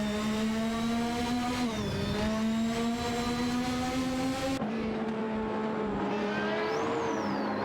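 Ferrari and McLaren Formula 1 race cars roar in a racing video game, a steady high engine whine with pitch dips and rises as gears shift and cars jostle closely, loud and continuous without talk.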